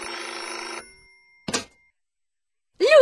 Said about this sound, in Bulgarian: Звъни като от чужбина.